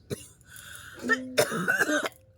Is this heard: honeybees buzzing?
no